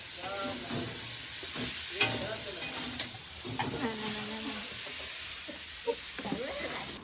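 Luchi, puffed Bengalese flatbread, deep-frying in hot oil for a wedding meal, a steady close sizzle with scattered clinks and stirring scrapes, faint voices murmuring in the background.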